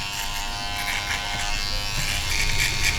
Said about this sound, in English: electric shaver.